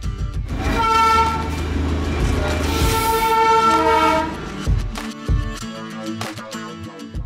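Darjeeling toy train pulling vistadome coaches with glass roofs as it starts its journey: loud, sustained horn toots sound up close, followed by softer mechanical clanks and knocks as the train begins to move.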